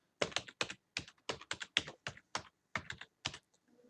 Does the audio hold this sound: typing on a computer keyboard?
yes